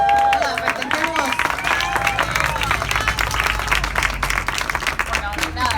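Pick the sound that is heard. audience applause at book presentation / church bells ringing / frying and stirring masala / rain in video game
audience applause at book presentation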